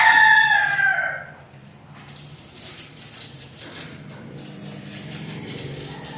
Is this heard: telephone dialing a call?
no